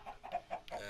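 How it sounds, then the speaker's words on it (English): Chickens clucking in a Minecraft chicken farm, about four short clucks in a steady rhythm, close and clear with no talking. "I got my own little chicken farm for eggs"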